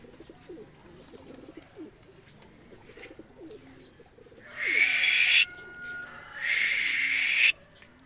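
Pakistani pigeons in a loft: soft, low repeated cooing in the first half, then two loud rushing bursts close by.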